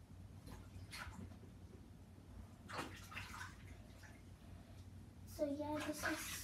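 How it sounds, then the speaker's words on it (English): Tap water runs steadily while a young girl's hands are washed during a nighttime routine, a continuous splashy hiss with bursts of handling, and a voice rising briefly near the end. "make sure we get her hands clean"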